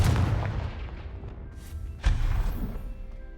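A Confringo fire-spell blast in the video game Hogwarts Legacy: a deep, booming explosion that rumbles away, followed about two seconds later by a second heavy thump and rolling rumble, loud and close.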